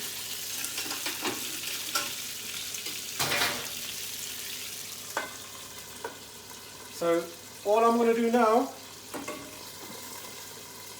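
Steady sizzling and frying hiss from burgers in a hot pan, steam-cooked under a second pan used as a lid, runs throughout, with someone talking over it and a few clinks and bumps of cookware.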